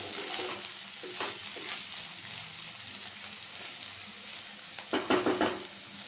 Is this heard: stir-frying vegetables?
yes